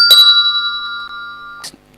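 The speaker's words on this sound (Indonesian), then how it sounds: "Pada saat waktu sudah habis, maka bel-nya akan berbunyi." A countdown-timer bell in the Classroomscreen web app rings out as a clear two-tone electronic chime. It sustains and then fades, with a short second ding near the end.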